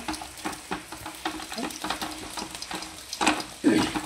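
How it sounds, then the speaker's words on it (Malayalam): Spatula scraping and stirring vegetable pieces in a hot pan, with repeated scrapes and a soft sizzle underneath, growing louder toward the end. "പുറത്ത് നമ്മുടെ കഷ്ണവും നമ്മൾ ഇളക്കി കൊടുക്കുന്നുണ്ട്"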